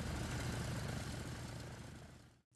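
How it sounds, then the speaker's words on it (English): A Douglas DC-3 propeller airliner at a fly-in drones steadily with broadband engine and propeller roar, holding at a moderate level before fading out near the end. "The Douglas DC-3 is one of the most recognized types in aviation history"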